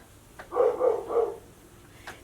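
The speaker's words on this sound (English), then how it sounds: "Oh, the neighbor's dog is going wild." A neighbor's dog barks three times in a quick run at moderate distance, fairly muffled, with a faint yelp just before and just after.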